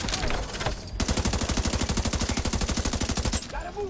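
Deployed turret in The Division 2 firing a sustained automatic burst of rapid, evenly spaced loud shots for about two and a half seconds, with game ambience before and after.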